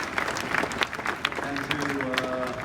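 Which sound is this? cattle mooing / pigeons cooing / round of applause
round of applause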